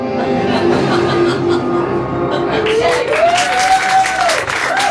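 Applause and some cheering from a comedy club audience during a stand-up game segment, a steady wash of clapping across the whole stretch with voices rising over it near the end.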